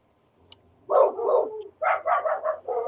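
A dog barks at people walking past the house, sharp close barks in two bursts: a pair of yaps, then four quick barks in a row, with nothing else heard between them.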